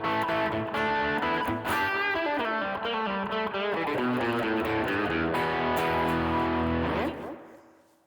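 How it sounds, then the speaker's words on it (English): Electric guitar, a 1964 Telecaster, played through a Boss OD1 overdrive model on a Line 6 Pod Express, sounds a loud, continuous run of overdriven chords and notes that rings out and fades at the end. "it's a Boss OD1 of all things"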